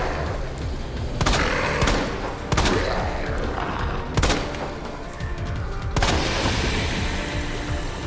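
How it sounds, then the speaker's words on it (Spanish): Gunfire in the Resident Evil 2 Remake video game, several sharp booming shots spaced a second or two apart, each with a short rumbling tail, loud and close. "disparo, ¿eh?"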